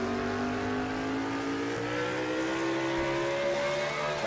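A number 44 N29 Toyota race truck on the Sonoma course in a racing video game, engine droning steadily as its pitch climbs slowly under acceleration, loud and continuous with no talking.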